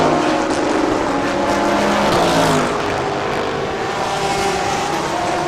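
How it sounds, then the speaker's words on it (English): Race car engines roar past on a circuit during a B-Quik Thailand Super Series race, a loud, continuous whine with pitch sweeps as cars pass close by. "The engine roar is immense and loud as can be, like a banshee out of hell, right behind my ears."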